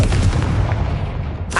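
A Confringo fire spell from a video game bursts with a loud, booming blast that rumbles for over a second, followed by a brief sharper crack at the end.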